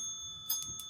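Small bell rung twice in quick succession during an indoor podcast recording, bright and close against a quiet room with steady background tones.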